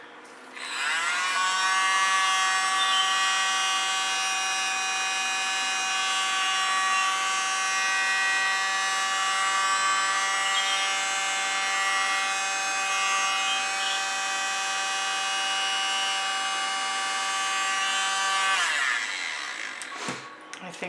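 A small electric blower pushes fluid acrylic paint across a poured canvas, a loud, steady motor whine with a bright harmonic tone that runs unbroken for about eighteen seconds before cutting off.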